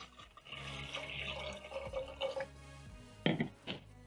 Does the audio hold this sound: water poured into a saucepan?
yes